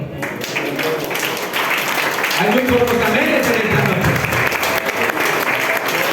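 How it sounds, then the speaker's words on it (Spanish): A church congregation at an evening service claps for the Lord, a dense wash of applause rising midway and carrying on under a preacher's voice. "¿Cuándo dan un aplauso al Señor?"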